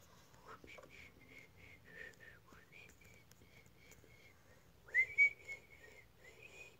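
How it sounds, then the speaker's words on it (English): A person attempts to whistle, producing a string of faint, breathy, wavering notes with short pitch slides and a few louder airy puffs, close to the mic in a quiet room. "Trying to whistle."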